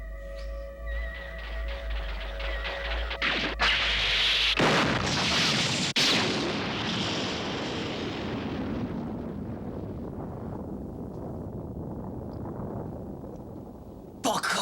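A large explosion from the anime Shippu! Iron Leaguer bursts in with a loud boom as a computer is blown up, then a long, roaring rumble of blast and debris slowly fades over many seconds.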